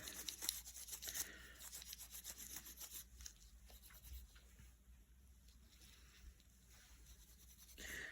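Quiet, steady rasping of sandpaper rubbed over the finish of a turned wooden wand in quick back-and-forth strokes, with no talking.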